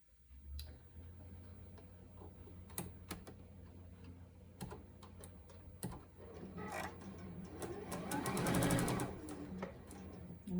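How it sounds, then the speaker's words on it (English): A sewing machine stitching fabric pieces from the top down, with a soft steady whirring hum and isolated clicks that build into a fast, rapid stitching run near the end, close and fairly quiet. "I'm going to sew from top down."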